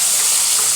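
Pointed gourd (potol) frying in hot oil in a pan gives a loud, steady, close hiss of sizzling for under a second, without voices.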